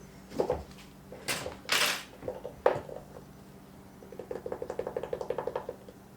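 All-purpose flour is measured out for a peach cobbler, with soft scoops and knocks of a cup, a couple of brief rushing pours, then a run of rapid light tapping as the cup is leveled off.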